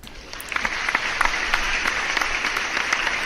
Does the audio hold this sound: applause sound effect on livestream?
yes